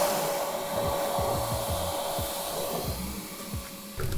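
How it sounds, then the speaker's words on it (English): A wet/dry vacuum works on a clogged drain, a steady loud motor roar broken by gurgling, sucking surges as water and debris are pulled through, running throughout with no talk. "Might be all the vacuum's gonna be able to do for the time being."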